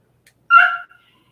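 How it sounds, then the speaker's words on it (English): A dog gives a single short, high whimpering yip, sharp and close, with silence around it. "Oh my goodness, this dog."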